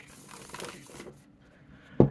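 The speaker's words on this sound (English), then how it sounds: "and easy to riffle shuffle." Tarot cards from a new Anthropologist Tarot deck are riffle shuffled, giving a soft, close fluttering patter that ends in one sharper snap as the cards bridge together. No one speaks.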